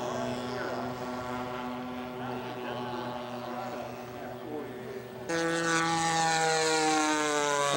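A scale model Corsair airplane flies overhead with a loud, steady propeller-engine drone that jumps in pitch and volume toward the end, with no talk over it.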